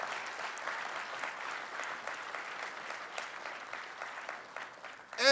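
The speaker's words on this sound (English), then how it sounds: "So I would love to give them a round of applause and acknowledgement this afternoon." A crowd applauds community activists at an outdoor art wall unveiling, steady moderate clapping that holds for several seconds before a sharper sound at the end.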